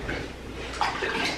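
Soft water sloshing and light splashing in a child's bath, close and fairly quiet, steady throughout with a slightly brighter splash near the end.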